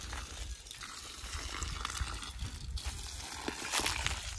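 Dirty water pours and trickles out of a household water tank being cleaned, making a continuous nearby splashing flow that swells slightly toward the end.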